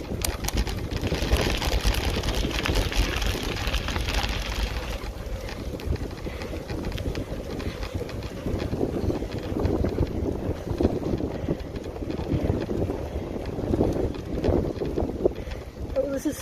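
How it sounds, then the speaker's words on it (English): Strong wind buffets the microphone while someone is cycling, a continuous low rumbling roar heard alongside a person talking. "Oh, this is so windy."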